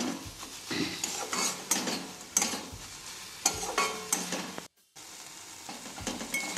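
Bata fish frying with spices in a pan while being stirred and turned: a steady close sizzle broken by repeated scraping strokes of the spatula, with one brief pause near the end.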